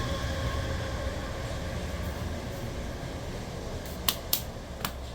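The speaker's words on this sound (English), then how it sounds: "there's another train going past." A train goes past as a continuous broad rumble and hiss, steady and moderately loud, with a few sharp clicks near the end.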